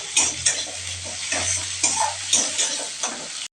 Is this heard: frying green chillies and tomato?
yes